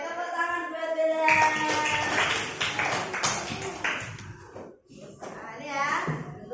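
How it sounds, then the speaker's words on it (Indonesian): Children in a classroom clap in a short burst of applause, mixed with a teacher's talk and kids' voices, the claps rapid and fairly close before fading into speech. "tepuk tangan buat Rani."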